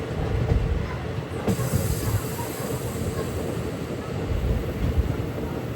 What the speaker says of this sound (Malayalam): 5:59 ട്രെയിൻ ഇതാ പഴനി റെയിൽവേ സ്റ്റേഷനിലേക്ക്